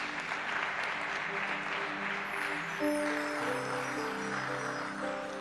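Church congregation applauding to acclaim Jesus Christ at a prayer and teaching service: sustained, dense clapping runs the whole stretch, with a sustained musical tone entering midway beneath it.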